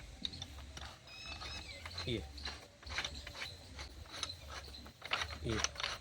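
Metal fitting being tightened onto a 1.5-inch irrigation rain gun, giving repeated short ratcheting clicks and scraping mechanical turns close to the mic, coming in bursts with brief pauses.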